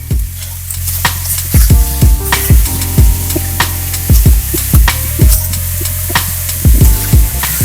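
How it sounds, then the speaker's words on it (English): Italian sausage fries in a non-stick skillet with a steady close sizzle, while a utensil stirs and chops it, giving repeated loud scraping knocks against the pan in an uneven rhythm. "So even though I'm mixing it, it is still cooking."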